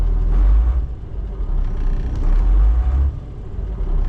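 An old Volvo F7 truck engine is revved up twice in quick succession, each rev swelling into a heavy, deep roar before easing back to a rough, rumbling idle close by.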